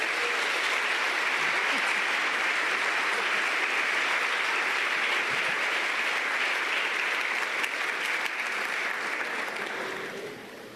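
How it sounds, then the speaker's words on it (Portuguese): A church congregation claps together in a dense, sustained burst of applause that stays loud throughout and fades slightly at the very end. "Vamos aplaudir a Jesus?"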